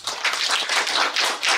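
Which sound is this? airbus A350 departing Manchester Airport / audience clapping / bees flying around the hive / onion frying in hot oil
audience clapping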